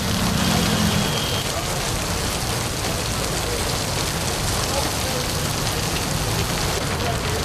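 Heavy monsoon rain pours down in a dense, continuous hiss of drops striking surfaces, loud and unbroken throughout.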